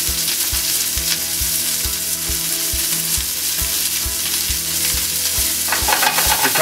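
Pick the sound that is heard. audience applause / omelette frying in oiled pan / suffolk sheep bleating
omelette frying in oiled pan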